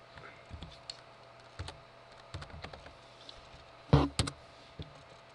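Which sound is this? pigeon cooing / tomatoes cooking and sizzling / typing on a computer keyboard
typing on a computer keyboard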